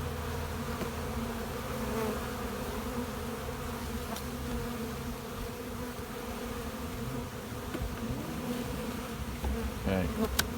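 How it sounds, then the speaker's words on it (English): Honey bees buzz steadily and close at an open hive during spring brood chamber inspection, a dense continuous drone throughout with brief louder passes near the end, no talking. "Get right on the bees."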